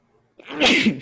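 A single close sneeze breaks a quiet pause in a seated conversation, starting with a brief intake and ending in a sharp, loud burst with no talk over it.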